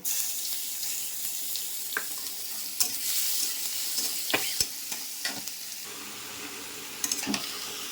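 Crushed garlic and black cumin sizzling in hot oil with chili in a pan, a steady close frying hiss broken by sharp spatula scrapes and clinks.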